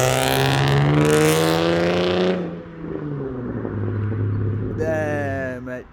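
A car with X-force straight pipes blares a very loud exhaust, rising then falling in pitch as it revs, easing to a rumbling idle before another sharp rev near the end.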